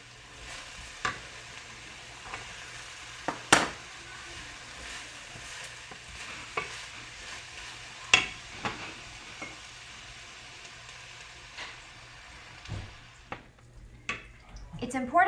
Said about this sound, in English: I'm going to go ahead and get the fish fillets into this smaller skillet